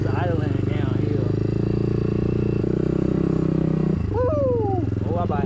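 A Can-Am off-road vehicle at an off-road park idles while rolling downhill, a steady low rumbling drone throughout, with a voice whooping and talking over it.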